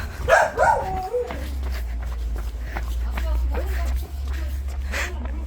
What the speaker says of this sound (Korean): 멍멍아, 일로 와